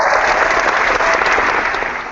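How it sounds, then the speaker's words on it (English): Sustained applause from an audience honoring punter Ray Guy's Pro Football Hall of Fame induction, a dense steady wash of clapping that runs loud throughout and eases slightly toward the end. "you could probably play the applause throughout the rest of the show"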